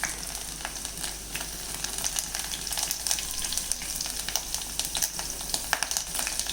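Ginger, garlic, green chillies and curry leaves sizzle loudly in hot oil, a dense steady crackle and spatter that runs unbroken with no voices.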